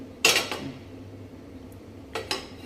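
A spoon scrapes and clinks against a pan while stuffing for stuffed eggplant is stirred, with one firm stroke, a quiet pause and then two lighter strokes close by.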